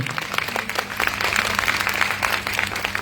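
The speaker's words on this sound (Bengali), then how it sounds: "জোরে হাততালি দিন সকলের জন্য" An audience at a school poetry commemoration event applauding performers, a dense steady burst of many hands clapping close by.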